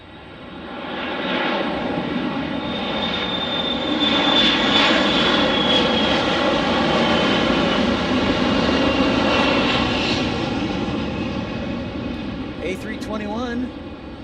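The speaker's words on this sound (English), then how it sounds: "Got a lot of CRJ 900s arriving, like 4 in the next 5 minutes." Bombardier CRJ 900 regional jets arriving at Detroit's DTW airport give a loud, steady roar that builds and holds with a whining engine tone, and a voice talks briefly near the end.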